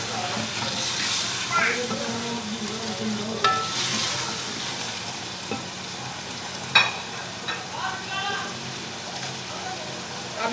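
Onions already turned pink frying in a pan as two large tomatoes go in, a steady sizzle with occasional stirring scrapes and spoon clicks, fairly close, with faint background sounds and no clear talk.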